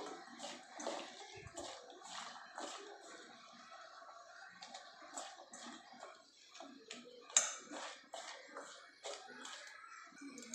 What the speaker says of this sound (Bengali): চলো এটা মাখি, হাত দিয়ে আমি মাখবো।